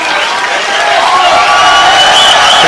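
Live crowd at a Polaris grappling match involving Benson Henderson, a dense, steady roar of cheering and noise sustained throughout, loud and close with no clear individual voices.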